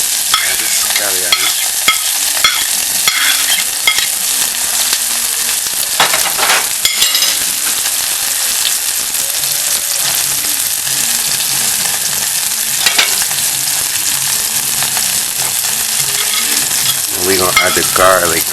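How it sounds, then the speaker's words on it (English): Onion and scallion frying in a pan for a Jamaican-style sardine dish, a steady loud sizzle with repeated scraping stirs throughout, close up and without talk. "You just add the onion. You kind of want it to simmer like just as this."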